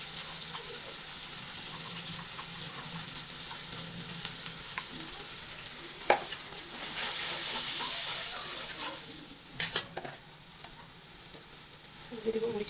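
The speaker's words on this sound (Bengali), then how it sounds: "মশলাটা ভালো করে কষিয়ে নিব" Spices with turmeric powder and salt frying in a pan for a hilsa fish and taro curry, an even sizzle with scraping stirs and a few sharper knocks near the end.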